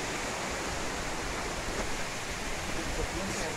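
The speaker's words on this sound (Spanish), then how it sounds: "es una cascada algo bastante alta" A fairly tall waterfall on the Las Ánimas river near Suchitoto, El Salvador, heard as a steady, even rush of falling water, continuous and moderately faint with no break.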